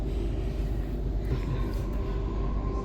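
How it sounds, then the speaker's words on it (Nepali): Steady low rumble of a train riding between Brisbane and Sydney, heard from inside a carriage, with constant droning wheel and engine noise at even loudness and no talk. "आहा यो ट्रेनमा पनि म 4 वर्षपछि बस्दैछु है।"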